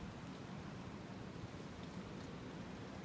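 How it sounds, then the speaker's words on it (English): Heavy rain in a gale-force storm hisses as a steady, soft wash heard through an open car window, a faint continuous noise with no voices. "Hear the rain."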